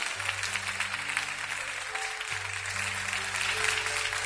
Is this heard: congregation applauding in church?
yes